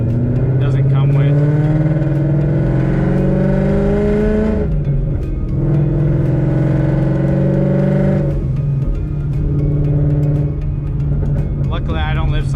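A supercharged 5.0 V8 Ford Mustang engine revs loud and close, rising in pitch, dropping back, then climbing again in a deep, throaty roar.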